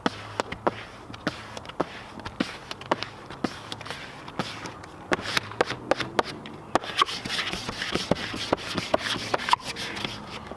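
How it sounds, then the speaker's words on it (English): A squeegee rubs down a vinyl decal graphic on an RV, giving repeated short swiping and rubbing strokes in an irregular rhythm, close and fairly loud with no talking. "We're going to squeegee down the graphic really well."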